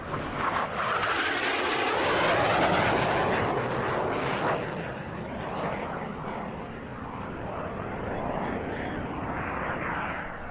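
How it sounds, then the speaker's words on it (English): A CF-5D Freedom Fighter jet trainer roars past at an air show with a loud, sweeping engine rush that peaks early and then fades into a sustained distant rumble. "Arriving shortly afterwards, flown by Heritage Flight pilot Charlie Tuner Hainline, was a CF-5D Freedom Fighter."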